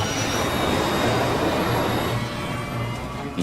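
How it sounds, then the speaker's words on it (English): Airliner jet engine roaring at high power, a loud, steady broadband rush with a low rumble, holding strong before easing slightly toward the end. "I feel the thrust of the engine re-engaging full throttle."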